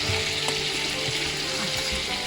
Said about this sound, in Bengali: প্রথমে আমি চিংড়ি মাছটা ভেজে নিচ্ছি।